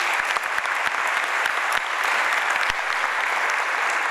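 An audience applauds at a concert by a tango ensemble in the Auditorio Juan Victoria, San Juan, Argentina, a dense, steady roar of many hands clapping with sharper individual claps standing out.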